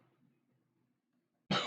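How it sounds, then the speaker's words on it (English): A single sharp cough brought on by incense smoke, close and loud, breaks a near-silence with faint low murmuring before it. "the incense kind of makes me cough"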